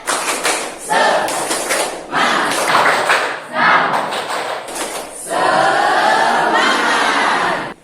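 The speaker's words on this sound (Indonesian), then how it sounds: "Tepuk semangat." A classroom of students performs a patterned spirit clap, bursts of clapping in set rhythmic groups broken by brief pauses, with voices chanting along near the microphone.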